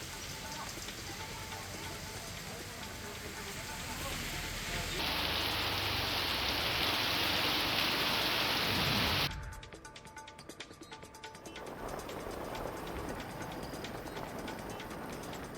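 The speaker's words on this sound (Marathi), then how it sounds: "संध्याकाळपासूनच रायगडमध्ये पावसाच्या सरी कोसळत आहेत." Evening rain falls in Raigad under cloudy skies as a dense, steady hiss of heavy drops. It grows louder midway, then drops sharply to a softer patter before swelling again.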